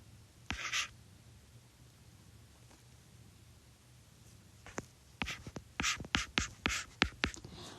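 A pen scratches on a surface in short bursts, one early stroke then a quick series of crisp strokes toward the end, close and fairly quiet against a faint room hiss with no speech.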